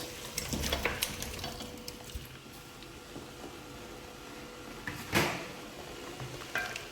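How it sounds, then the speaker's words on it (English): Parboiled meat goes back into a pot of stock for Yoruba-style okra soup, giving soft, faint clatter and stirring with a brief sharper knock of utensil on pot midway, over a quiet kitchen background. "add this parboiled meat back into the pot"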